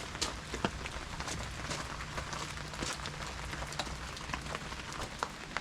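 Rain falling outdoors around a freshly poured concrete countertop, a steady dense hiss with scattered brighter drop ticks, continuous throughout.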